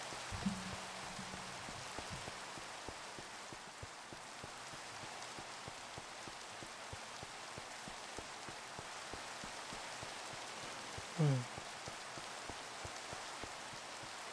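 Steady rain falls in the video game Minecraft, a continuous soft hiss of drops that never lets up. A brief low tone sounds near the end.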